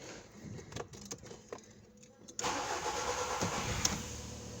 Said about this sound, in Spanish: Vamos a prender el coche.